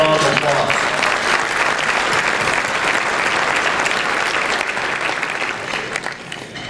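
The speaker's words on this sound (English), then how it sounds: "Let's give ourselves a round of applause." Crowd at an organization's 137th annual meeting giving a round of applause, dense sustained clapping that fills the room, loud at first and gradually tapering off near the end.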